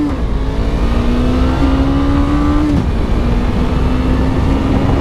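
A 2017 Suzuki GSX 250R motorcycle at full throttle, a steady loud engine note climbing in pitch through two gear shifts, with steady road and wind noise underneath.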